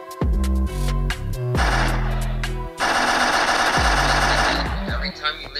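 Bursts of rapid automatic gunfire in the Roblox game ERLC during target shooting, loud and close, in several long stuttering strings separated by brief pauses.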